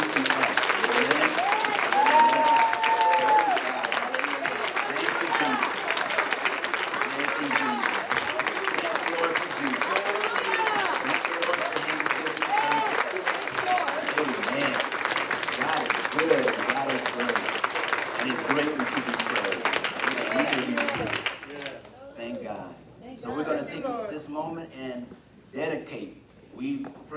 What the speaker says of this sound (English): let's just give God a hearty, hearty hand clap for him getting ready to come